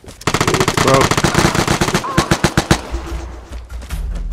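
Heavy automatic gunfire from a big weapon in the Vigor video game, a loud rapid burst of shots in close succession that thins into separate spaced shots before trailing off, with faint voices underneath.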